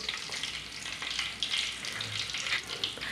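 Fenugreek, cinnamon bark, two cardamom pods and two cloves frying in hot oil for chicken soup, a steady close sizzle and crackle throughout.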